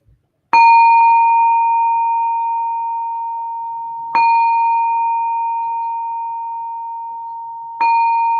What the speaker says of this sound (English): I'm going to ring the bell 3 times to begin our silent meditation